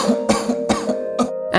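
A medical simulator mannequin gives a quick series of harsh, close coughs, about five short bursts in under two seconds.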